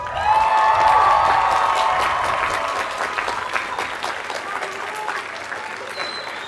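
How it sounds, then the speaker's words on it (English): Graduates at a 2015 College of Environmental Design commencement give the guests a loud, dense round of applause that swells early, then gradually thins and fades. "Graduates, please look back at all of the guests and give them a well-deserved round of applause"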